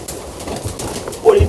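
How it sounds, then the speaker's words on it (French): Pigeons coo and stir in a dusty attic of an old abandoned fire-brigade school, a brief low coo rising at the end beneath muffled movement, with people talking nearby. "Ah ouais, il y a plein de piafs."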